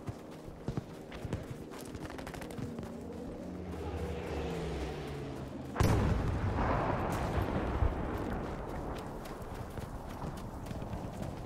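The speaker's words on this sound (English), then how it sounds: "Oh, they've dropped an arty on it" An artillery strike lands in Battlefield V, a heavy broadband blast erupting midway through, after a stretch of rumbling battlefield noise with hoofbeat-like clatter, then a loud rolling aftermath.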